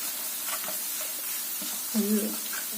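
Chopped ginger sizzles and crackles steadily in hot oil for Kerala inji curry, a continuous close frying hiss with occasional soft stirring scrapes.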